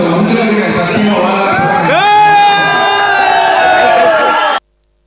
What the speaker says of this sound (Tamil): கதாநாயகனை கண்ட ரசிகர்கள் ஆரவாரம் செய்தனர்.